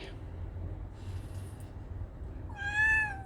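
A pet cat meows once near the end, a clear rising-falling call over a quiet background hum.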